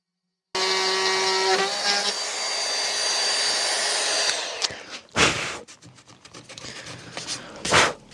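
A Bosch GKF 12V-8 cordless trim router cuts a groove in wood, a loud steady high whine that winds down, followed by a few sharp bursts and handling clatter.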